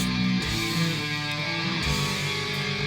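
A dense, distorted blackened death metal guitar riff roars continuously with heavy low end and a thick wall of sound, loud and unbroken throughout.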